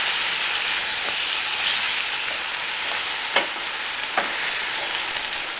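Canned chopped tomatoes hitting a pan with pork chops and mushrooms give a steady, close broadband sizzle with a few sharp clicks of stirring, and no voices.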